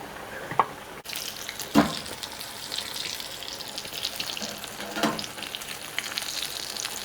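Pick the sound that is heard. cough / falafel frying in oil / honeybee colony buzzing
falafel frying in oil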